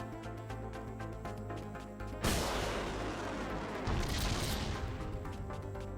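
A weapon fires in the Metal Dogs video game: a sudden broad blast cuts in over steady game music, followed by a sustained roaring burst and a second surge, loud and close.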